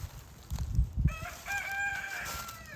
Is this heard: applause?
no